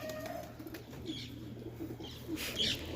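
Pigeons coo with low, soft, repeated calls in a backyard coop, close by, with a brief chirp or wing flutter near the end over a low background hum.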